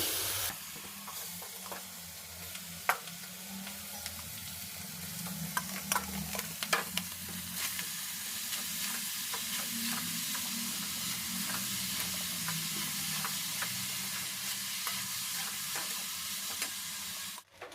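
Food fries in ghee in a home kitchen pan, with a steady close sizzle and hiss running throughout and repeated scraping stir strokes and clinks of a spoon against the pan.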